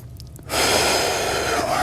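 Controlled breathing during an at-home core workout, a sharp inhale followed by a long, steady, airy exhale held close to the microphone.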